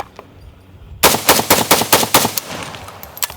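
AK-style rifle, called the Ram 7, fired at an outdoor range toward steel targets and a berm: a loud, close rapid burst of about eight sharp shots, evenly spaced, with a ringing tail after.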